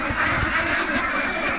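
A dense flock of three-month-old ducks quacks nonstop on a duck farm in Davao, a loud, overlapping chorus of nasal calls close by with no pauses.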